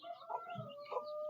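A desi rooster on a small poultry farm gives a few short clucks, close and fairly clear, over faint background noise.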